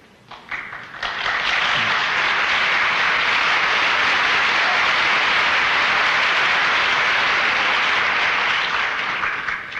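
Studio audience applause at a television variety show after two singers perform, swelling quickly into a dense, steady roar of clapping that holds loud for nearly ten seconds before easing slightly at the end.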